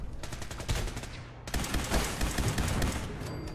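Rapid automatic gunfire from Fallout 4 rattles on continuously, a dense burst that briefly cuts near 1.5 seconds and then resumes even louder with sharp repeated shots.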